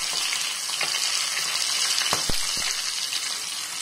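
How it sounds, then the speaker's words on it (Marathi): Cumin seeds crackle in hot oil in a pan, a soft, steady sizzle with a few sharp pops. "तेल गरम झालंय. जिरं टाकून घेऊया."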